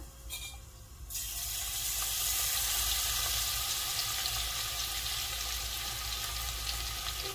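Crushed garlic sizzles in hot oil in a pan, a steady loud frying hiss that starts after a brief quieter moment and continues evenly throughout, with no talking.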